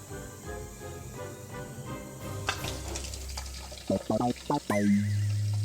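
Tap water runs into a balloon as a steady rush, followed by a few short squeaky rubbery bursts and a rising whistle-like tone near the end.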